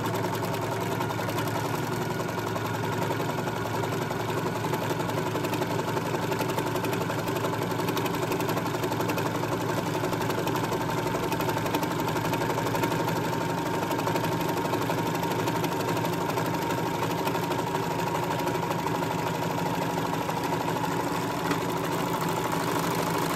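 A serger runs steadily, stitching a rolled edge along the ends of jersey knit kimono sleeves, its fast whirring motor droning loud and unbroken throughout with no talking.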